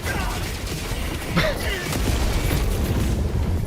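Continuous rumbling boom with a sharp blast in the middle, dense and loud throughout, explosions in Helldivers 2 with layered noisy effects.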